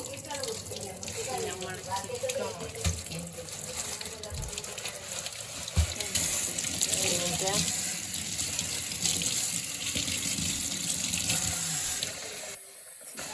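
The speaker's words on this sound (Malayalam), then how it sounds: "അരി കഴുകുന്നുണ്ട്." Rice washed under a running kitchen tap, with a steady gush of water and splashing throughout and a brief voice over it.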